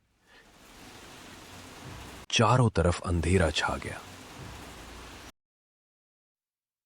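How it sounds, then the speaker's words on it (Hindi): Heavy rain during a storm in an animated Hindi folk story, a steady soft hiss of downpour that runs throughout while a narrator speaks over it partway. "जोर जोर से बारिश होने लगी।"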